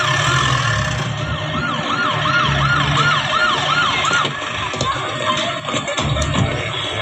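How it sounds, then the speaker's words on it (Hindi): A wailing ambulance siren rises and falls repeatedly amid the rumble of traffic engines, loud and close, then fades into the traffic noise. "सर ट्रैफिक में एम्बुलेंस फंसी है"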